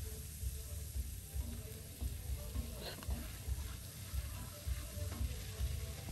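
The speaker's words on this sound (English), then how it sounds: "I'm done frying the liver." Diced liver fries in a pan at home, giving a steady, soft sizzle with occasional light clinks and stirring sounds, heard alone without talk.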